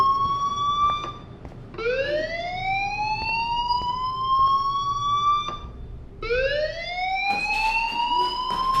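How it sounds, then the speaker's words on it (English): An electronic fire alarm in the video game Life Is Strange sounds in rising, whooping tones. The sweeps repeat at close range with short gaps between them, loud and unaccompanied. "Do you hear that fire alarm?"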